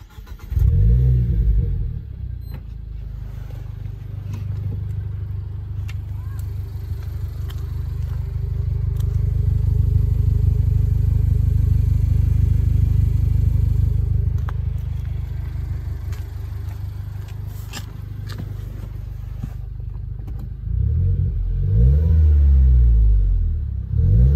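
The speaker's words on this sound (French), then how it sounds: "je vais vous faire un petit démarrage pour la démarrer, tout simple" A Renault Clio 4 RS Cup Phase 1 engine fires up with a loud cranking burst and settles into a rumbling idle. It swells through a long, gentle rev and then surges again near the end, with no one speaking.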